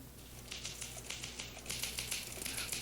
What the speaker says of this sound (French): Marie tape vite